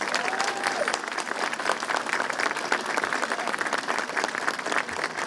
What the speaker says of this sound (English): please join me in giving them a well-deserved round of applause.